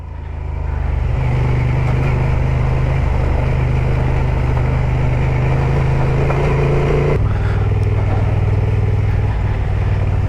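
A Honda XL750 Transalp rides on a slippery road in rain and mud, its engine a loud steady drone with rushing wind and road noise, the pitch dropping briefly partway through, and no voices.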